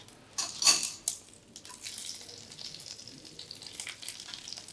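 Green chillies drop into hot tempering oil for mango pulihora, giving a sharp sizzling burst that settles into a steady, close crackle and fizz.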